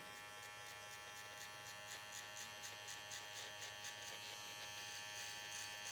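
An electric hair clipper fitted with a half-size comb guard buzzes steadily as it cuts hair, a close, constant hum with faint rhythmic pulses as the blade passes through the hair.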